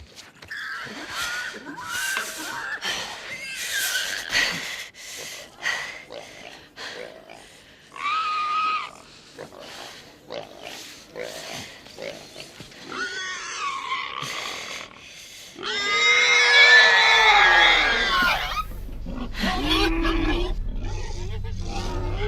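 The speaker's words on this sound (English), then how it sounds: "With the boar whimpering at the back of the gas station after Ellie's relentless hunt." A wounded boar in The Last of Us Part 2 whimpers and grunts in short, strained bursts near a gas station, ending in a louder, drawn-out squeal over a low rumble, with a man screaming alongside it.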